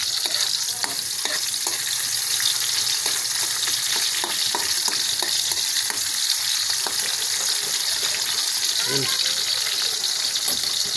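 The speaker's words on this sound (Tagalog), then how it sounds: "Igigisa muna natin sa kamatis." Tomatoes sautéing in a pan, a dense steady sizzle close by with repeated spatula taps and scrapes throughout.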